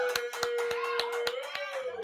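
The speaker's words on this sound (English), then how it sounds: "Give my man a round of applause, man." A few people clap for a guest rapper on a live stream, sparse, spaced claps close by, with a sustained tone and faint voices behind them.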